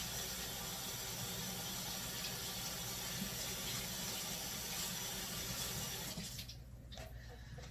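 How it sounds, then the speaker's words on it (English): Tap water runs steadily into a kitchen sink while zucchini is washed, a continuous broadband rush that stays loud and even before cutting off near the end. "so we're going to turn on our water here"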